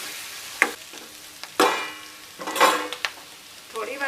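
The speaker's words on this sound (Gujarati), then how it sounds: "આપણે આને સતત ચલાવતા રહેવાનું છે।" Gram flour and chilli mixture is stirred in a hot pan, giving several sharp scraping and clanking strokes over a soft frying sizzle, close and fairly loud.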